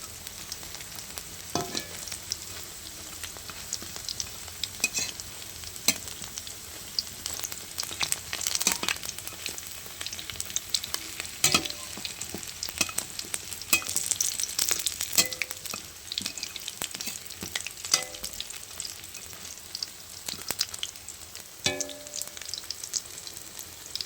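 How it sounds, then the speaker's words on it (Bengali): Cauliflower chops frying in hot oil, a continuous close sizzle broken by repeated scraping and tapping as the pieces are flipped over and over in the pan, with no voices. "তো আমি এপিট উপিট করে সুন্দর করে ভেজে নিচ্ছি।"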